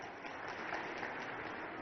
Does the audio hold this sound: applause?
yes